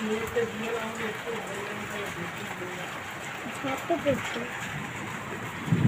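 Light rain falling on wet ground outdoors, a soft steady patter and hiss with a person talking over it.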